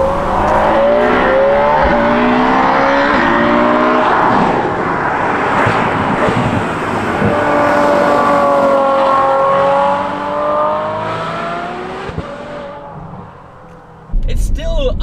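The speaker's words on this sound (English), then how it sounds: "The sound of the IP exhaust that I've installed on this car is still a wonderful thing." A Ferrari F12 V12 fitted with an IP exhaust revs hard and close, its howling note climbing and falling through repeated pulls, with a brief loud burst at the very end.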